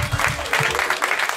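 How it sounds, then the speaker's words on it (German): Audience applause at a German stand-up comedy show, a short burst of clapping from a live crowd, fairly loud and close, with some voices mixed in. "Nochmal Applaus für euch selber"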